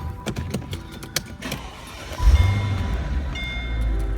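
A 2006 Mercedes-Benz SL500 roadster V8 cranks with a short burst of starter clicks, then catches and settles into a steady, close, low idle rumble.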